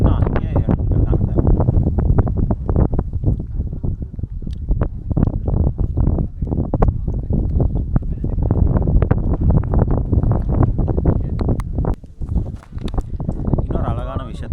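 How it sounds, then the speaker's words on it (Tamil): Strong wind on Chembra Peak buffets the microphone in a constant roaring rumble, with scattered knocks and clatter underneath. "காற்று பயங்கரமாக அடிச்சுன்னு இருக்கா."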